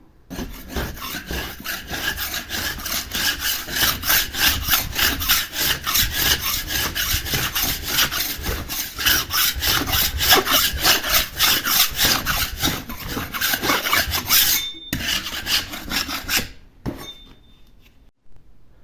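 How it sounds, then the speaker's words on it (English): A ceiling is being stripped with a scraping tool, giving steady, rhythmic rasping strokes close by that repeat for about fifteen seconds before stopping. "Second day on this job, still stripping the ceiling."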